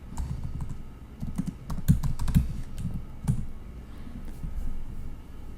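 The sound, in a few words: typing a command on a computer keyboard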